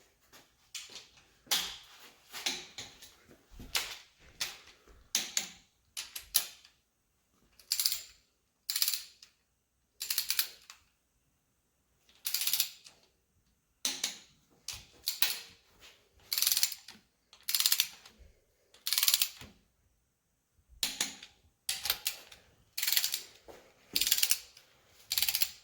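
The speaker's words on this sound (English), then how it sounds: "So now I'm just going to torque them and then I'll be good." A torque wrench tightening rocker arm bolts on a 318 engine, with repeated close, bursty ratchet clicking in short runs separated by brief pauses, sustained throughout and with no talk.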